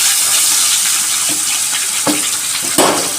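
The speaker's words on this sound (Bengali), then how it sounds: "এক এক করে মাছ ভেজে নেব" Catla fish pieces frying in hot oil in a pan, a steady close sizzle with a few soft clinks and stirring knocks near the end, no talk.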